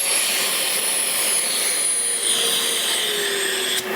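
A Festool CT MIDI dust extractor runs at full suction, a loud, steady high-pitched whine and airy roar close by, with a slight pitch shift near the end, no talk.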